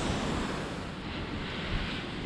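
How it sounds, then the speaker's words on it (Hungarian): Steady broadband rush of a waterfall beside a mountain stream, the Pišnica near Lake Jasna on the way to the Vršič Pass in Slovenia, loud and close, continuous with no voices. "Milyen szép vízesés van itt."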